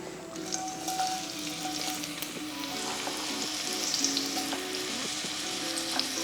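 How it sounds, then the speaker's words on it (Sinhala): Onions frying in oil for a vegetable dum biryani, a close, continuous crackling sizzle with light stirring scrapes and no talk over it. "ඉතින් ලුණු ටික බදින අතරේ"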